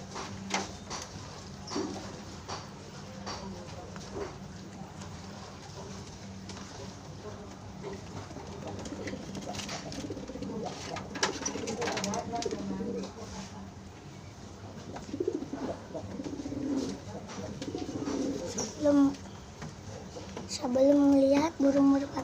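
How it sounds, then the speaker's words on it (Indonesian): Pigeons under a table give soft, throaty coos amid scuffling and handling noises, with the cooing growing clearer and closer toward the end while a person talks. "Sebelum melihat burung merpati kolong mejanya"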